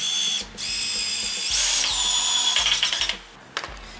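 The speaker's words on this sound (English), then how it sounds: "And I can put a screw in this side." A power drill drives a screw into wood on a workbench being built: a close, loud whirring motor runs in several bursts that rise and cut out, ending with a final short spin.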